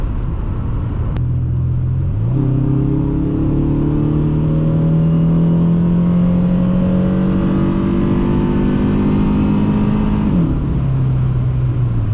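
A 2001 Dodge Intrepid with a 3.5L engine accelerates while driving, its steady engine drone rising smoothly in pitch over several seconds before dropping back as it eases off, with constant road rumble underneath.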